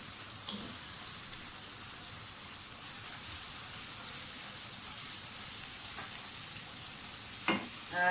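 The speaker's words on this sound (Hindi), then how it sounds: "बस इसकी भुनाई कर लें अच्छी तरह से।" Tomatoes frying in a pan for an egg and onion curry give a steady, even sizzle that holds for the whole stretch, with a few brief utensil scrapes near the end.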